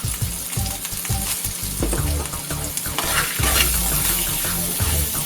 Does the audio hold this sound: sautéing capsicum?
yes